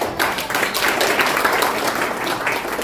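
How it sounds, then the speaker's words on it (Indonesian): A church congregation applauds Jesus during a Pangilan Ilahi worship service, with a lively, dense clapping spread across the room at moderate loudness and a faint rhythmic edge, with no voices. "Tepuk tangan buat Yesus"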